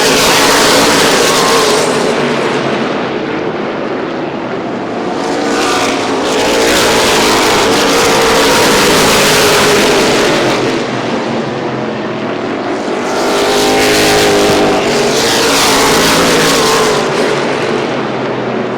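Late model stock cars racing around an oval short track, a loud sustained engine roar that swells and fades in waves as the pack passes, continuous throughout without voices.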